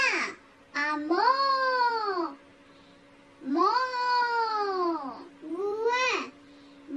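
A voice imitates a cat's meow, drawn-out wavering mews repeated three times with short gaps, clear and close, in a playful animal-sound game for a young child.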